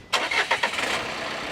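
A Renault Duster with the K9K diesel engine cranks briefly and catches, a few rapid starter pulses settling into a steady, close diesel idle with no voices.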